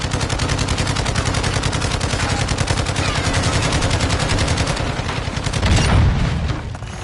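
Deployed sentry gun in Call of Duty DMZ firing rapid, continuous automatic bursts, loud and close, with a heavier boom near the end amid other gunfire.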